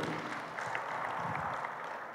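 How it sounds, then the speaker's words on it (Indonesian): Audience applause at a media launch event in East Java, a soft, continuous wash of many hands clapping, fairly distant and even throughout. "Wih, tepuk tangan itu."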